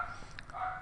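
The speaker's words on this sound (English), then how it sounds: "sorry about my dog" A dog barks faintly in the background, a single short bark heard in a brief moment of indoor room sound.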